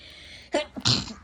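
A single close sneeze, a quick inhale followed by a sharp burst, heard alone.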